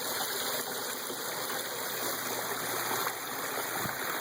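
A small waterfall at Carpenter Dam in Hot Springs, Arkansas, gives a steady, even rush of falling water that stays constant and moderately loud throughout, with no voices.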